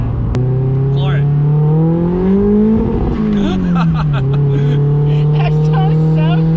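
A new car's engine revs hard under full throttle, a steady droning note climbing in pitch then dropping back and settling, loud and close with people talking over it.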